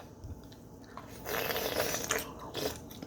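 Someone bites into and chews mussels with a seafood dipping sauce up close, giving soft wet squishes and light crunches in short bursts over a quiet background.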